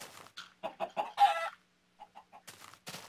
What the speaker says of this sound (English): Found a chicken.